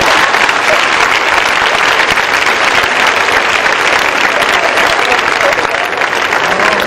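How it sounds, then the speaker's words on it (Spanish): Loud, sustained applause from a large audience at an outdoor commemorative rally in Havana, steady dense clapping filling the whole stretch without a break. "Aplaudan, que se vale."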